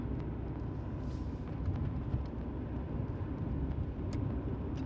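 A car travels a dark highway at night at about 70 km/h, its engine and tyre rumble forming a steady, even drone with no voices.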